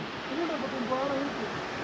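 Steady broadband rush of a waterfall falling about fifty feet into a pool below, continuous and fairly loud, with faint voices murmuring underneath.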